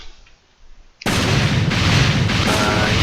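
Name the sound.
bombs thrown in video game Creative Fighters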